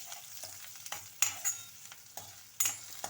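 Onions and green chillies frying in a tempering for murmura (puffed rice) upma, with soft continuous sizzle broken by several sharp stirring scrapes and clinks of a spoon against the pan, no talking.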